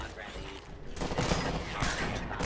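Weapon gunfire in Fallout 4, a burst of rapid shots crackling densely over about a second and a half, fairly loud and close, with a voice speaking briefly around it.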